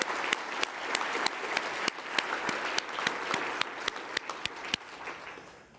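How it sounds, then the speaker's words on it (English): An audience at a research forum claps for presenters after rapid-fire pitch sessions: sustained applause with a few sharp, distinct nearby claps standing out above the crowd, tapering slightly at the end. "I just would like to give them all a round of applause for the great work"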